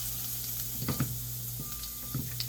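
Wood ear mushrooms stir-frying in an oiled frying pan give off a low, steady sizzle over a faint electrical hum, broken by a few brief crackling spatters.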